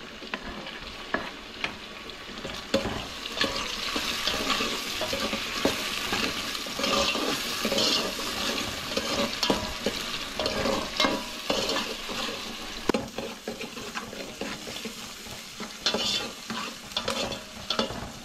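Chopped onion and tomato fry in a pan over a low flame for a Konkan-style chicken dish, giving a steady, close crackling sizzle with frequent scraping stirs that runs throughout, with no voices.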